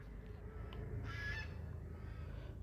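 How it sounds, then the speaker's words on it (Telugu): Ducks on the water at the Sila Thoranam park in Tirumala give a short run of faint, distant honking calls over low background rumble. "అదిగోండి బాతులు"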